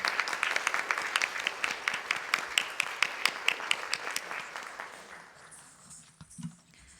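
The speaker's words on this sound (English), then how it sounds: "Let us give a huge round of applause to Sri Murali Balachandran." A dinner and felicitation audience applauds for several seconds, a dense patter of many clapping hands that gradually thins and fades out toward the end, followed by a few faint stray sounds.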